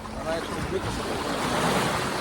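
Sea surf rolls onto a beach on Lefkada, Greece, as a steady broadband wash with wind buffeting the microphone, close and continuous for a couple of seconds.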